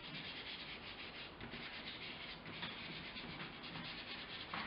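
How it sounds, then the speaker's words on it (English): Charcoal and chalk rubbed into paper for a seascape drawing, a steady close-up dry scrubbing and rasping that runs continuously with slight strokes in rhythm, alone with no voices. "I'm going to rub it in just like I did with some of the pastels"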